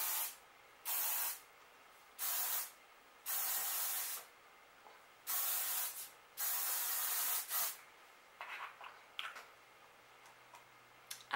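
Oribe Freestyler Working Hairspray hisses from an aerosol can in about eight short, sharp bursts of spray, close and clear against a quiet room, followed by faint rustling and handling sounds.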